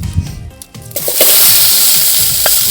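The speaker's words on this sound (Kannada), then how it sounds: "ಟೊಮೆಟೊ ಚೆನ್ನಾಗಿ ಹುರಿಬೇಕು ಎಣ್ಣೆಯಲ್ಲಿ" Tomatoes dropped into hot oil for a village-style drumstick-leaf curry, bursting into a loud, steady sizzle after a few quieter stirring clanks, with spatula scrapes continuing over the frying.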